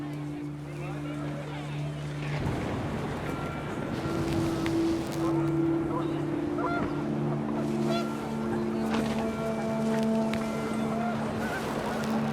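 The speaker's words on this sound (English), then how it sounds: "The wind picked up, and panicked geese appeared and quickly went." Panicked geese honk during a windy scene in the video game What Remains of Edith Finch, with scattered honks over wind and a narrating voice, and sustained musical tones running underneath.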